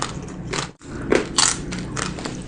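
Crunchy lechon pork belly being bitten and chewed, with several crisp crackling crunches close to the mic and no talking.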